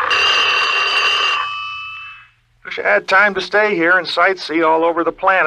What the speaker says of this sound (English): that sound you hear is the warning bell on my time machine